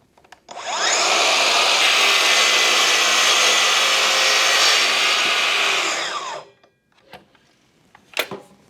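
A KSC 60 cordless compound mitre saw cuts through clamped material, a loud steady whine lasting about six seconds before spinning down, then a few faint clicks and knocks.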